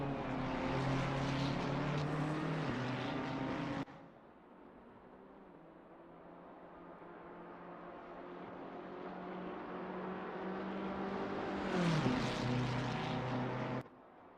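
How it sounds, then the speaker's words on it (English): Racing cars battle on a circuit: loud engine roar at first, a sudden drop to a quieter drone, then another car swells in and passes near the end, heard faintly at a distance. "just enjoying the noises of the cars as they battle"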